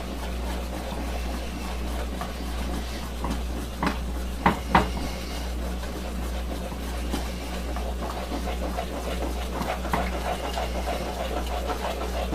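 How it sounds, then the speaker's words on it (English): A spoon works butter and flavorings into thick chocolate peppermint fudge in a pot, with soft scrapes and occasional clinks against the pot under a steady low background hum. "You're supposed to stir it until it loses some of its gloss."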